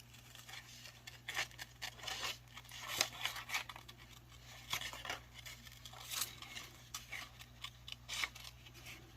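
Scissors fussy cutting paper for a junk journal, a quiet run of short snips and rustles at uneven intervals, close by, over a low steady hum with no talking.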